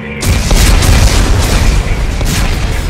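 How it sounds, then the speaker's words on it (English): Explosives detonate in Dead Space 3, set off by computer command. Loud, booming blasts roll one after another, with sharp repeated bursts over a dense, sustained roar. "Computer, arm explosives."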